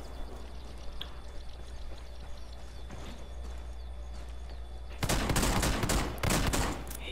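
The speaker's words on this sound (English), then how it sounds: "Taking fire. I need some help." Gunfire from the video game Ghost Recon Wildlands: faint scattered distant shots at first, then a loud close burst of rapid fire with a short pause before more shots, over a steady low rumble.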